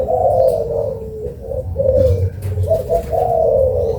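A spotted dove (tekukur) coos in a series of soft, repeated rolling calls, close and clear, with a low background hum and no talking.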